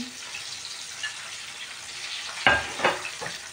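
Chicken pieces deep-frying in hot oil, a steady low hiss of sizzling with a few louder bubbling pops and splatters near the end, close and fairly quiet.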